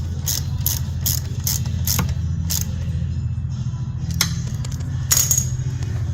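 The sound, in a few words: tightening mounting bolts on a backup system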